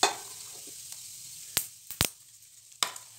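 Whole spices spluttering in hot oil for dum biryani, a quiet background hiss punctuated by three or four sharp, isolated pops and crackles, close up and without voices.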